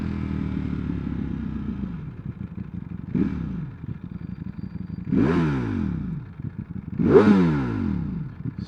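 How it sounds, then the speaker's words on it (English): A Ducati V4 Panigale engine idles with a low, lumpy burble, then revs sharply three times, each blip climbing and falling away. The revs come at moderate loudness, and the last one is the strongest. "The engine on this is superb."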